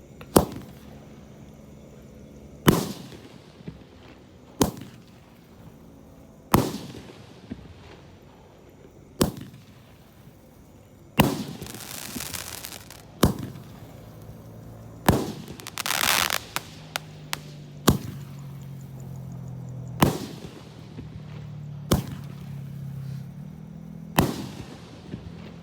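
Roman candle fireworks of 1.9 size fire a series of sharp, loud booming shots outdoors, about a dozen spaced several seconds apart, with crackling and fizzing between later bursts.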